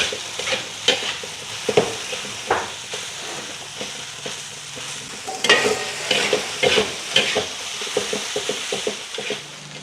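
Nasi goreng (fried rice) being stirred and fried in a pan: a steady sizzle runs underneath while a utensil scrapes and taps the pan in repeated close, irregular strokes.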